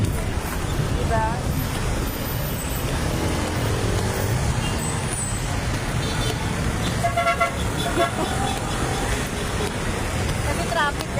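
Busy street traffic with engines rumbling and several short car horn toots scattered throughout, along with a brief air-brake hiss, while people talk nearby.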